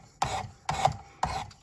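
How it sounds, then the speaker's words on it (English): Knife blade drawn across the stone of a Work Sharp Precision Adjust sharpener, three even raspy grinding strokes about half a second apart, close and clear with no talk. "I'm gonna work that burr all the way back across the edge."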